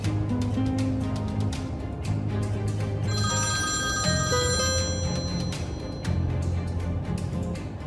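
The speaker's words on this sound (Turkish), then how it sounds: "Ya niye açmıyor bu adam telefonunu?" A telephone ringing repeatedly and going unanswered, a loud, close, steady ringtone with sustained tonal bursts and no talk over it.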